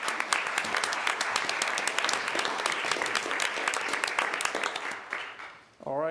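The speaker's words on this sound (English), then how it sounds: "All right, a round of applause for our starter care share donors" At a commissioners' meeting, the room applauds the starter care share donors with crisp, lively clapping for about five seconds. It fades out, and then a voice starts speaking.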